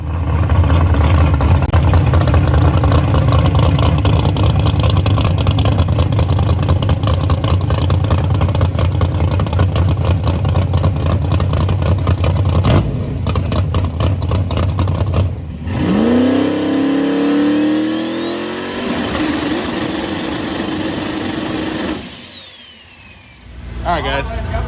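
Car engine revving hard and steadily against a two-step launch limiter at a drag strip, loud and continuous, then cutting out before a quick rising rev and whine; people talk over it.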